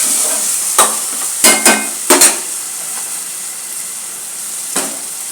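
Masala with tomatoes frying in a pan for chicken pulao, with a soft continuous sizzle broken by several sharp clinks and scrapes of stirring, close by.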